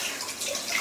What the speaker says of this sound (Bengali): জল দিয়ে মাংসগুলো ভালো করে ধুয়ে ডাইরেক্ট এখানে দিচ্ছি